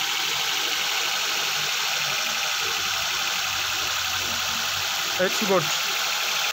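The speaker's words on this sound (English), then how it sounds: "Using sound scope, we are checking injector working sound." Fuel injectors in a running Suzuki car engine, heard through a mechanic's stethoscope as a steady close ticking hum, with a brief spoken remark near the end.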